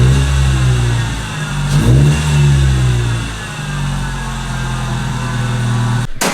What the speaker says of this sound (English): Successful install on the 2J Racing side exit exhaust